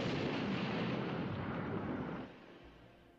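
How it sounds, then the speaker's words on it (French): Bomb blast in a film scene: a broad, roaring explosion rumble that fills the first two seconds, then quickly fades into a softer lingering tail. "Steve Wok est tué par l'explosion d'une bombe dissimulée dans sa guérite."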